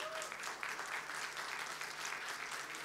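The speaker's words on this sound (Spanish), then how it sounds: "dale un fuerte aplauso a Jesús" A church congregation applauds during a Spanish-language resurrection sermon, producing a dense, even roar of clapping that holds steady throughout at moderate distance, with a faint voice underneath.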